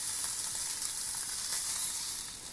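Beef short ribs searing in a hot pan give a steady, loud, close sizzle and hiss that runs unbroken with no voices.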